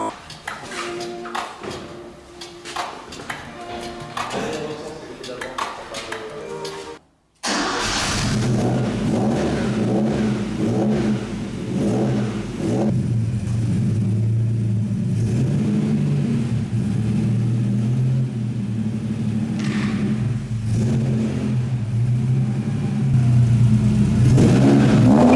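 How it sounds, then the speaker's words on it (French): A Ford Capri engine, running on garage plates, fires up after a brief silence and settles into a loud, steady rumble close by while the car drives off, with some clatter and revving layered over the continuous engine drone. "là actuellement je roule cette Ford Capri avec des plaques de garage"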